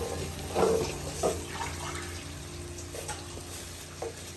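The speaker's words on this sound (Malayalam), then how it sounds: "1 കപ്പ് വെള്ളം ഒഴിക്കുകയാണ് നമ്മൾ ഇതിനകത്ത്." Water is poured into a cooking pot with a soft splashing rush, a couple of brief louder gurgles near the start, and no one speaking.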